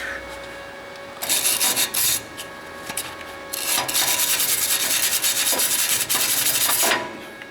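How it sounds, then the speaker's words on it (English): A hand wire brush scrubs rusty exhaust metal on a Ford Ranger during a flux-core weld repair, coming in bursts of close, harsh rasping strokes separated by short pauses. "I'm using my old trusty wire brush."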